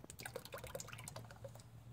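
Old engine oil from a Jeep Grand Cherokee 3.7L V6 dribbles and drips into a drain pan, a busy stream of small liquid plinks and splashes, close and fairly quiet.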